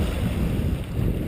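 A sailboat motoring along the coast near Alanya at about 5.5 knots with no wind, giving a steady low engine rumble with water rushing past the hull, continuous and close.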